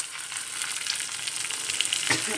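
Curry leaves crackle and sizzle in very hot oil for a soya granules curry, a steady dense frying hiss with a brief sharper spatter near the end, no voices.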